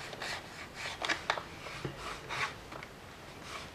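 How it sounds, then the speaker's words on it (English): Soft, quick rubbing strokes work grease and grime off the sides of a Daihatsu Copen center console, a faint, close, scratchy back-and-forth texture. "So we'll start by cleaning the center console, down the sides particularly,"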